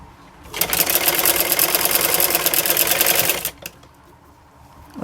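Sewing machine running close and steady for about three seconds as it stitches a trouser seam, a dense rapid mechanical chatter that stops abruptly, leaving quiet room tone.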